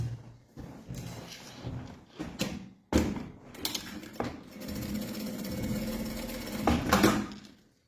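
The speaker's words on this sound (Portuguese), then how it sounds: "vou passar uma costura aqui" A sewing machine stitches a seam along the top edge of a wallet lining, its motor whirring in uneven bursts with short pauses between runs, close and moderately loud with handling clatter.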